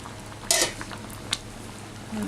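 A spoon stirs butter chicken in a pan, with a couple of sharp metallic clinks and soft scraping against a low kitchen background.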